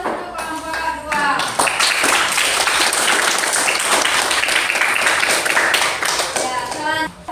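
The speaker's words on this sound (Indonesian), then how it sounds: "Aplaus, kita beri aplaus untuk kelompok 2." A classroom breaks into applause for group 2. Many hands clap in a dense, steady burst lasting several seconds before it fades, with brief speech at the start and the end.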